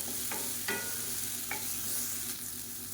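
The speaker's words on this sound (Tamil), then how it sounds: "வெங்காயம் தக்காளி நல்லா வதங்கிருச்சு" Chopped onion and tomato sizzle steadily in a hot pan while a spatula scrapes and stirs a few times, the frying hiss continuous and close throughout.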